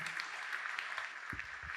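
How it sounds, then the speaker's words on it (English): A brief burst of audience applause from students at a university gathering, steady crowd clapping at moderate distance, fairly quiet overall. "let's give a round of applause to Dr. Sam Ankrah"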